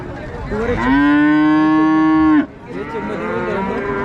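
An HF calf at a cattle market lets out one loud, close, drawn-out moo lasting over a second, with faint market noise before and after.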